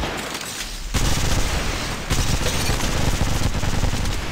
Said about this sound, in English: Opening fire. They're in view of the enemy.